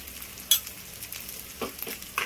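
A spiced potato curry made with achari masala stirred in a pan, a soft low sizzle with a few light spoon scrapes and taps, close and quiet, no voices.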